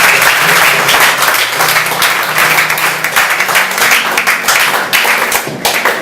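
A church congregation applauds steadily, a dense close wash of many hands clapping that carries on without a break for several seconds.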